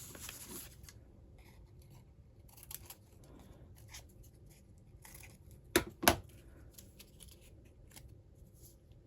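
Scissors trimming paper for a Dollar Tree Valentine's Day junk journal, a few quiet snips and paper rustles, with two sharp close cuts standing out in a hushed room.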